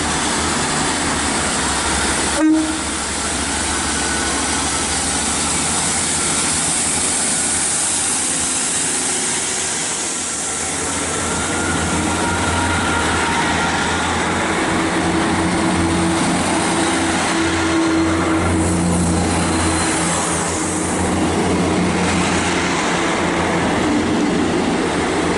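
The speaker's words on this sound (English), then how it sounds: "departing now is 15266 and 158950, heading on the 1318 service to Bristol Temple Meads from Weymouth" Class 158 diesel multiple unit departing Bath Spa station toward Bristol Temple Meads: a steady, loud engine drone and rolling rumble fill the whole stretch, with a sharp clank near the start and the pitch shifting slightly as the train pulls away.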